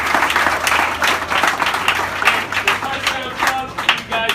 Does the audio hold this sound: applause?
yes